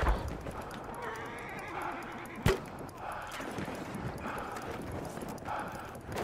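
A horse gallops in the video game Battlefield 1, steady clip-clop hoofbeats with a loud neigh and a sharp impact partway through, amid constant battle noise.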